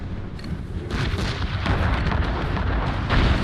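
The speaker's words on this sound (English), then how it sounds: "Enemy ahead! Ready cannons!" Naval cannon fire in Assassin's Creed Rogue: a dense, loud barrage of booming ship cannons that rumbles and overlaps steadily, with no talk.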